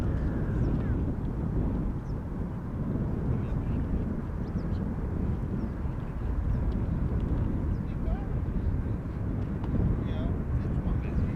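Ryanair airliner arriving at Schiphol Airport, a steady broadband jet roar with wind buffeting holding at a constant loud level throughout, no distinct peak.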